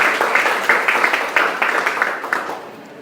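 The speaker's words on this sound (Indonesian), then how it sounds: "Tepuk tangan dulu untuk kelompoknya Putri." A short burst of crowd applause, many hands clapping in a dense patter that fades out toward the end.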